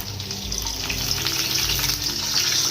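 White cooking oil poured into a hot pan for frying chicken gives a loud, steady sizzling hiss with bubbling crackle, close up and uninterrupted.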